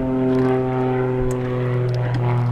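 A propeller airplane drones overhead in a continuous low engine hum with steady harmonic tones, loud and sustained throughout, with no voices.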